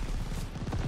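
Bombs and explosions going off in the Call of Duty Vanguard video game, a dense continuous rumble of booms and crackling blasts filling the whole moment, loud and close with no break.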